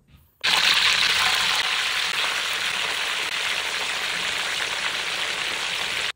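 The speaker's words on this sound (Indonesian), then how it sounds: "sementara tunggu ayam goreng" Chicken marinated with lemon and salt sizzles and crackles in hot oil, a dense, even frying hiss that starts abruptly and keeps going at a steady level.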